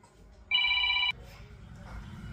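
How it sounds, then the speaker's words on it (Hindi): A telephone rings once in a short electronic trill lasting about half a second, loud and close, then cuts off and leaves quiet room noise and faint movement. "रुक जाओ, फोन आ गया।"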